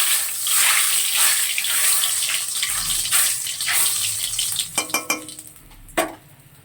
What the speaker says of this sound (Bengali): কড়ার তেলও গরম হয়ে গেছে। কালো জিরে ফোড়নে দিলাম